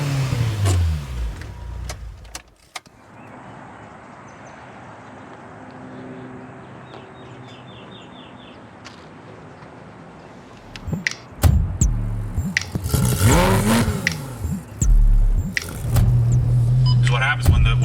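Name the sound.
Honda Civic Si B18C engine revving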